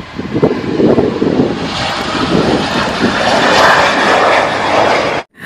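Engine-like whooshing roar from a toy airplane, loud and close with steady broadband noise and fluctuating intensity, cut off abruptly near the end; no voices.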